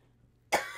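A single sharp cough bursts out after a stretch of near silence, close and fairly loud, with a short rough tail, during a session of Neverwinter.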